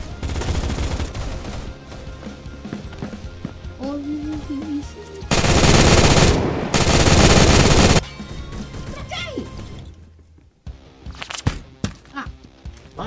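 Gunfire from a weapon in the Roblox video game, a string of sharp loud shots and bursts with two long dense blasts in the middle, mixed with game sounds and someone talking.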